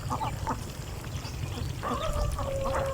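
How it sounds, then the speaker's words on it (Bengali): Ducks at a duck farm in the middle of the Chalan Beel wetland quack and call intermittently at moderate distance over a low rumbling background. "চলন বিলের মাঝেই গড়ে উঠেছে হাঁসের খামার দেখতে পাচ্ছেন"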